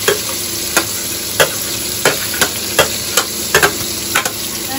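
Chopped onion sizzles loudly in hot oil with garlic paste, a continuous fry punctuated by about a dozen sharp spatula clacks against the pan at an uneven pace.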